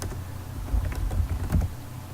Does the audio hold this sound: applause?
no